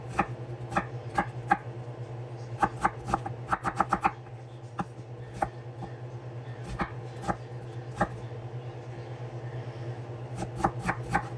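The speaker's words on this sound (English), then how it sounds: "I start off by chopping one onion" A knife chops an onion quickly on a cutting board, sharp clicks in uneven bursts over a steady low hum.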